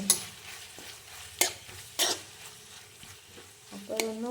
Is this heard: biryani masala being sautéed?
yes